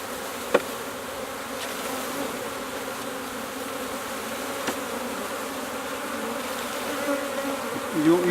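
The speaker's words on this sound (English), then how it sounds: "And then I'm going to dump these bees in the box." Honey bees from a package dumped into a hive box, a steady close buzzing drone of many insects throughout, with a few sharp knocks as the package is shaken out and handling noise near the end.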